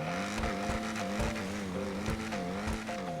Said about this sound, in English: the Jugular is a great car. First of all, listen to the sound this engine makes.